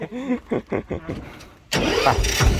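A single-cylinder engine on a Thai rot e-taen farm vehicle with a hydraulic dump bed cranks with several rhythmic pulls, then catches and runs loudly and steadily up close.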